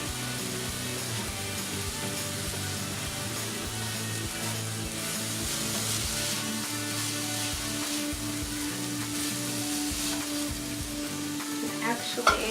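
Cooked jasmine rice fries and sizzles in a pan for homemade fried rice with tofu, a steady close crackle with occasional stirring and scraping and no speech.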